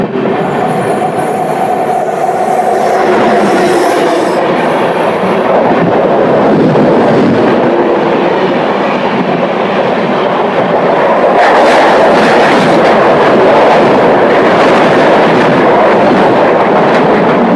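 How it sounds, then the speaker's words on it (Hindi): Saryu Yamuna Express rushing past on the adjacent track, a loud sustained roar of wheels and carriages with rattling, grinding metal and brief squeals, heard close up from inside a moving train. "सरयू यमुना एक्सप्रेस।"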